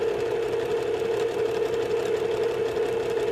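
A sewing machine stitches a quilt block with a steady, close, continuous motor hum and rapid needle chatter running the full length, no pauses or voices.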